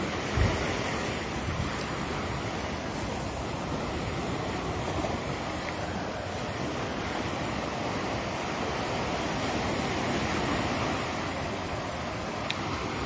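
Rough sea waves pound an eroding shoreline at Thirukkovil in Ampara District, Sri Lanka, where a loud, continuous roar of surf mixes with wind buffeting the microphone and a sharper crash at the start.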